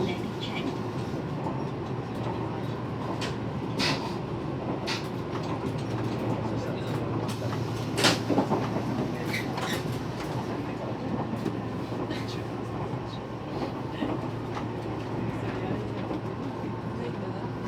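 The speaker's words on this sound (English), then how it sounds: "This train is the limited express Ryomo number 7, train for Akagi." Riding aboard the Tobu line limited express Ryomo No. 7 bound for Akagi: a steady, close rumble of the train in motion with light rattles and clicks, while onboard announcements speak over it.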